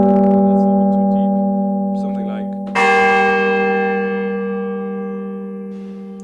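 A bell tower style synth preset rings out, two big sustained bell chords with bright harmonic overtones that decay slowly, the second strike louder and fuller than the first.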